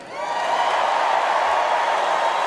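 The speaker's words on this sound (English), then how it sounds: "Let me hear you cheer if you support Israel." A big convention crowd at the 2024 Republican National Convention in Milwaukee cheers and applauds, a sustained roar that swells in quickly and holds loud and dense throughout.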